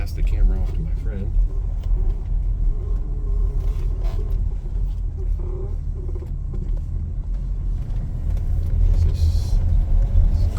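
A 1977 Pontiac Grand Prix accelerating up to road speed, its steady engine and road rumble heard from inside the car, loud and continuous under someone talking.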